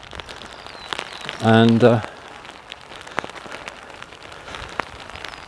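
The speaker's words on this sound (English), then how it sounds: "the rain is getting harder" Rain falling steadily during an outdoor country walk near Stonehenge, a constant patter of drops on surfaces, with a brief spoken word partway through.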